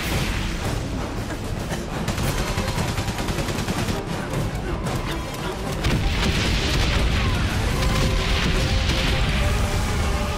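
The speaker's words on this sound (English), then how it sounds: "Explosions everywhere!" Dense battlefield noise from the World War I video game Valiant Hearts: rapid machine gun fire and repeated explosions crash together loudly and continuously, growing heavier toward the end, with no talk over it.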